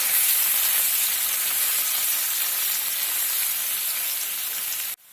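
Ground spices with turmeric and asafoetida fry in oil over a low flame, giving a loud, steady close-up sizzle that stops suddenly near the end.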